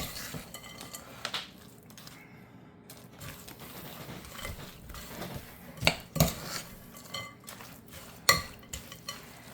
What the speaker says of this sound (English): I am just going to go ahead and scrape this into my prepared pie crust